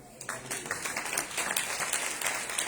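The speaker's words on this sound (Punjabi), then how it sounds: "ਤਾਲੀਆਂ ਵਜਾਓ" An audience claps together in a steady, dense patter of applause that swells and holds for a few seconds, with a faint hint of a voice beneath.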